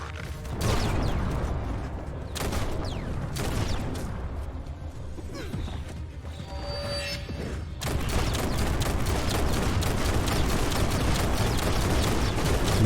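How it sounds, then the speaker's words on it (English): Rockets firing in the video game Biomutant, a run of sharp gunfire-like bursts and booms with mechanical whooshes, loud and repeated, briefly thinning in the middle before a dense barrage resumes. "Look at the rockets."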